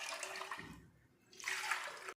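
Water poured from a glass into a cooking pot for Hyderabadi chicken biryani, two close splashing pours separated by a short pause.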